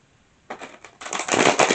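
A deck of tarot cards is shuffled up close, with a couple of short papery riffles followed by a longer, denser run of flicking card noise that grows louder toward the end.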